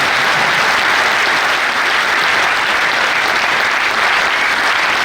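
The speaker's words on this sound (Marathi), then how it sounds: "त्या खऱ्या टाळ्या माझ्यासाठी येतात." Dense, loud audience applause fills the hall in a steady, sustained roar of many hands clapping for several seconds without letting up.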